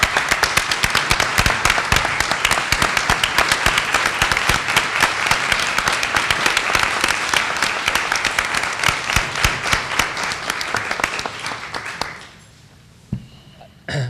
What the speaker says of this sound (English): I just want to give you a round of applause for your effort, your work in the district.